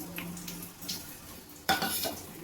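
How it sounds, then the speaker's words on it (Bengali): Whole spices are tipped into hot oil left from frying a rohu fish head, a sudden crackling sizzle flaring up after some soft pan and utensil noise, close and moderately loud. "এবার আমি ফোড়নটা দিয়ে দেবো তেলের মধ্যে।"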